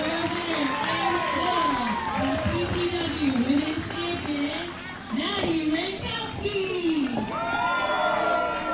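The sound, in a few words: wrestling crowd cheering in Buda, Texas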